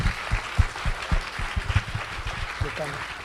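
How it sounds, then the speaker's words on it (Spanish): Audience applause for two university professors at a talk, a broad wash of clapping with dense low thumps running steadily for a few seconds, fairly loud and close. "al profesor Reinaldo, les pido un gran aplauso para estos dos profesores de la universidad, grandes amigos."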